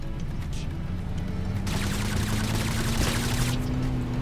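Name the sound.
gunfire in Totally Accurate Battlegrounds video game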